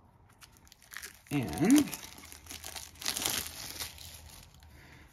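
A board game's plastic wrap is cut open and peeled away, giving a burst of loud crinkling and tearing close up, followed by softer rustling, with someone speaking briefly.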